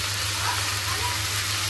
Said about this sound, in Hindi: अच्छे से भूनो।